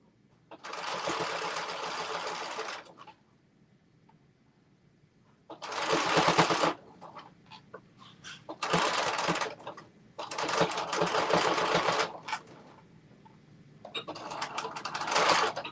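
A sewing machine stitches a Carmen top in four steady whirring runs separated by quiet pauses with faint handling noises, and no one speaks.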